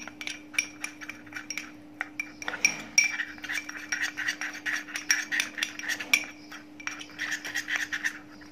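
A spoon stirs olive oil into a homemade mixture in a bowl, giving a steady run of close, rapid clinks and scrapes against the container with no talking.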